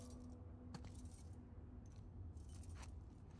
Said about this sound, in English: Wanna try those keys?